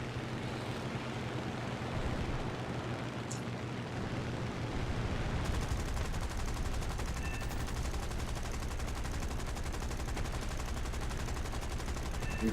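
Steady, continuous machine-gun fire in an arcade air combat video game, a dense rattling stream over droning aircraft engine noise that runs the whole time without pause.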